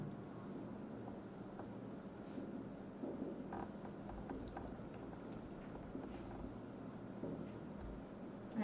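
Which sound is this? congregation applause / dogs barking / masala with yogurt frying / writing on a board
writing on a board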